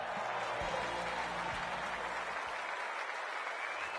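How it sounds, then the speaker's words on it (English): A large crowd at a VFL football match between Williamstown and Port Melbourne roars and applauds steadily as the captains meet, a dense, continuous wash of cheering with some low rumbling early on. "The crowd already making plenty of noise as the captains come together."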